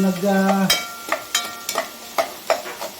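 Ginger, tomato and onion sauté in a pan, heard as a soft sizzle under repeated sharp scraping and tapping strokes of a spatula, close and without speech.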